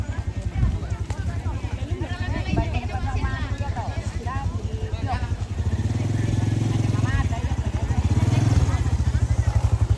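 A motorcycle engine runs nearby, its rumble swelling louder in the second half beneath lively overlapping conversation among a group of people.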